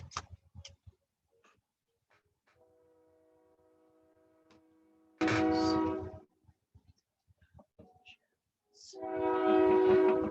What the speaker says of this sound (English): Oh, sorry guys, I've got a train coming